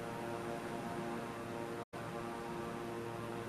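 Steady, loud drone of a propeller airplane engine in Microsoft Flight Simulator, a constant hum with engine harmonics that cuts out briefly near the middle before resuming.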